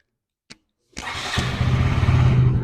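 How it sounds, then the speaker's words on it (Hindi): A KTM 200 motorcycle engine is self-started: a brief electric starter blip, a short pause, then the single-cylinder engine catches and settles into a loud, steady idle, close by. "अब इसका सेल्फ स्टार्ट करते हैं एक बार।"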